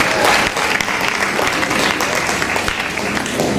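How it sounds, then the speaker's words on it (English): Sustained applause from a school drama-event audience, a dense steady wash of many hands clapping, loud and close throughout. "It's a little round of applause as they leave the stage."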